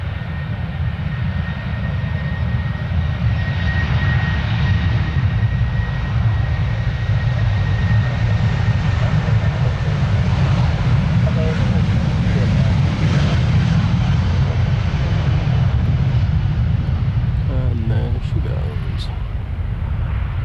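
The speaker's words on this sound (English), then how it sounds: "And there in the distance we've got an Embraer Phenom" A distant Embraer Phenom jet approaching London Stansted Airport, a steady broad roar of engine noise carrying on through the whole stretch with a faint whine, while someone talks over it.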